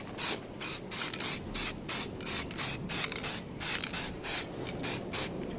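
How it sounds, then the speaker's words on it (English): Light tack coat of spray paint going onto a Suzuki GSX-R 600 K2 motorcycle part, heard as a close run of short hissing bursts in steady rhythm, each puff separated by brief pauses. "This is a tack coat."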